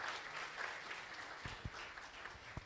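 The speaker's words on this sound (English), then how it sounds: "Would you want to stand to your feet and then receive your applause?" Audience applause for hospital staff at a teaching hospital's annual performance review, a steady wash of many hands clapping with a few louder thumps near the end.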